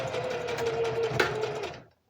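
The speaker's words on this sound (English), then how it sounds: "I went ahead and put this on serger stitch like I have here" A serger sewing machine runs a steady, loud overlock stitch through fabric, a continuous whirring drone that cuts off abruptly near the end with no voices.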